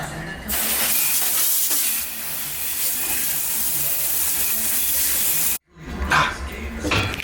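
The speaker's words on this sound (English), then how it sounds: "So we'll get this washed down, spray her off real quick, cool her down." Steady broadband hiss of a hose spraying water onto Mopar 8 3/4 rear axle parts, loud and close, cutting off briefly near the end before resuming in spurts.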